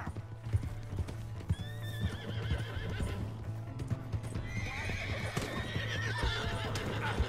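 A horse gallops in Red Dead Redemption 2, with rapid, continuous hoofbeats at close range, a whinny, and other game sounds underneath.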